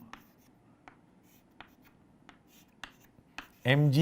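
Chalk or marker taps and scratches on a classroom board while physics equations are written, in sparse, close strokes, followed by a brief voice at the end.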